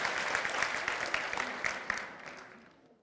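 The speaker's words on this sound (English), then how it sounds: "Round of applause for our parents." An audience claps in a round of applause for parents at a children's programme. The clapping is dense and steady, then tapers off toward the end.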